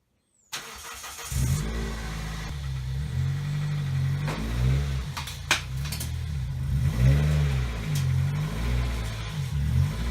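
A Toyota Celica engine starts and runs steadily, revving up and down as the car creeps forward onto ramps, close and loud with no talking.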